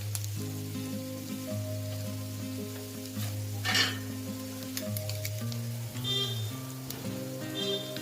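Sweet corn curry sizzles steadily in a pan with garlic paste while a spoon stirs through it, the frying hiss continuous and close with light scraping and clinks, no voices; a low steady hum sits underneath.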